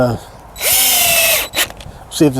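A cordless power drill drives coated deck screws to mount gate hinges on a wooden fence gate, giving one loud sustained whine that winds up and stops, then a short second burst with voices around it.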